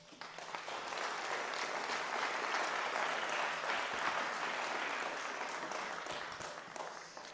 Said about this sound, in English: let's give all of those donors a round of applause